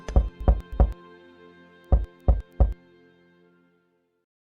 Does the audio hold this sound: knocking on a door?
yes